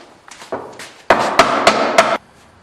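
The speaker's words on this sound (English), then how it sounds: "take a piece of wood and a hammer and pound it home" A hammer strikes a wood block to pound a wooden drawer joint home, a few scattered knocks and then a quick run of loud, solid whacks, close up and with no talking.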